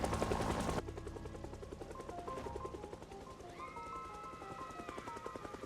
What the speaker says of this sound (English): Someone's perished to the helicopter, it seems.